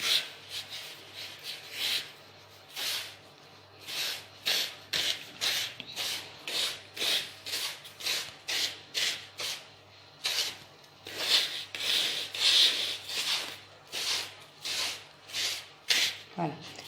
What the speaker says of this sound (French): on va faire ça pendant à peu près 2-3 minutes, hein, pour que ça soit bien incorporé à l'intérieur. Voilà, il faut bien mélanger.